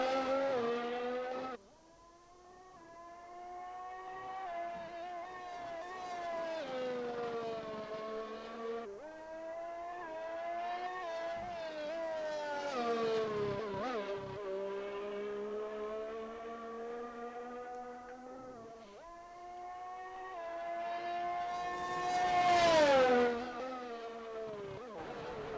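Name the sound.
rally car braking and drifting through a corner in a racing video game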